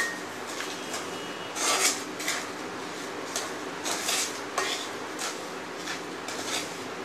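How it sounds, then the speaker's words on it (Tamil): A spoon scraping and clinking against a pan while rava laddu mixture is stirred after milk is added: intermittent soft metallic scrapes and taps at an uneven pace over a steady background hiss. "பால் சேர்த்துட்டு நல்லா கிளறிட்டுருக்கலாம்"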